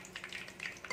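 Bundiya frying in oil, a soft, fairly faint bubbling sizzle with small irregular crackles throughout a brief moment, no voices.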